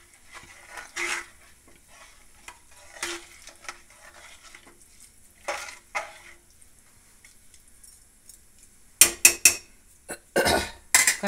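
An egg biryani mixture is stirred in a cooking pot. Soft, intermittent scraping strokes are followed by a few loud, sharp clattering bursts near the end, with no voices.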